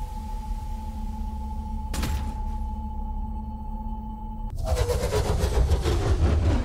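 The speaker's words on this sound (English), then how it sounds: "Engine powering on." A mech's engine powers on in the video game Overheat, a steady droning hum that cuts out briefly before swelling into a louder, rising mechanical whine and roar, with no talking.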